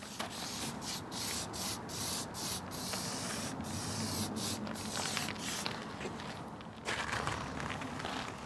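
Aerosol detailing spray hissing from a can in a string of short bursts and longer blasts at close range, a dated and noxious car-care product, with some rubbing and handling noise between sprays and no talking.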